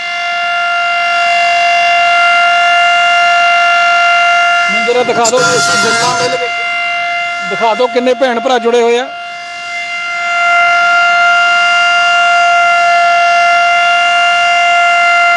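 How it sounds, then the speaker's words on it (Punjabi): A steady, loud civil defense blackout siren wails continuously throughout at a sugar mill, with people talking briefly over it near the middle. "ਸਾਇਰਨ ਦੀ ਆਵਾਜ਼ ਤੁਸੀਂ ਸੁਣ ਸਕਦੇ ਹੋ"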